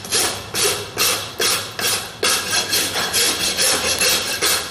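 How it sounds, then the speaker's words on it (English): A farrier's rasp files down the toe of a horse's hoof wall in steady rhythmic strokes, about nine loud, close rasping passes with no talk. "I'm just going to take this hoof wall down in that fashion, just in the toe, in the front part of the foot. So using the rasp"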